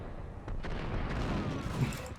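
Gunfire in the Max Payne video game: a booming shot lands early, and a dense, rumbling reverberation sustains through the rest of the passage.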